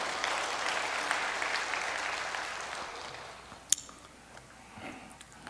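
A church congregation applauds during a worship service, sustained clapping that fades after about three seconds, followed by a sharp tap and a quieter stretch with faint movement.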